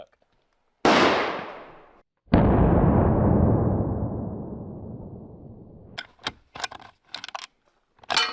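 Two loud gunshots crack nearby, each followed by a long rolling echo that fades slowly, then some clattering and handling noises.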